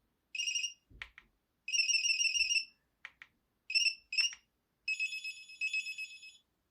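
Several ringtones from a Kyocera KWC 2235 phone play one after another, bright electronic melodic bursts separated by short silences, the last a sustained tone; close and clear with no talking.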